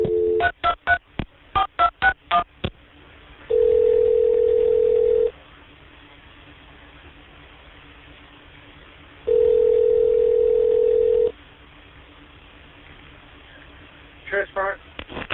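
Telephone tones play during a call transfer at a sheriff's department: quick bursts of dialing beeps, then two long steady ringback tones separated by a quiet pause, with more short beeps at the end.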